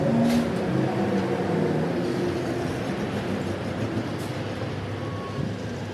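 Subway train passing through a station, a steady broadband rumble and rush that starts loudest and slowly fades as it moves away, with no talking.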